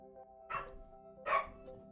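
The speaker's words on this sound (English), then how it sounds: "Oh, dog barking now." A dog barks twice, moderately close, with short separate woofs about three-quarters of a second apart over a steady background hum.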